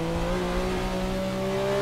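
Porsche 962C race car engine held at full throttle in the Assetto Corsa racing game, a steady high-pitched droning whine with sustained tones, loud and continuous with no talk.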